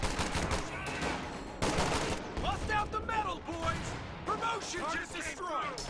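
MG34 machine gun fire in the strategy game Company of Heroes 2, with dense rattling bursts and battlefield crashes running continuously beneath a commentator's voice.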